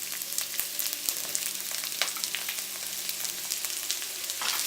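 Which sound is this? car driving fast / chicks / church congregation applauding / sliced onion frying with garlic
sliced onion frying with garlic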